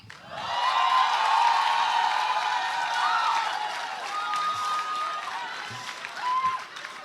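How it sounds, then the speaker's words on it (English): Sustained audience applause at a youth summit welcoming a speaker to the stage, a dense steady wash of clapping with crowd noise and some cheering, lasting several seconds and staying loud throughout. "we'll welcome him with a resounding round of applause"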